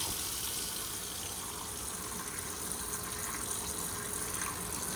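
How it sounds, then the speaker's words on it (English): Water runs from the faucet of a 2024 Forest River Wildwood FSX travel trailer, a steady close hiss and gush into a sink, continuous and unbroken with no voices. "Go ahead and run this water out."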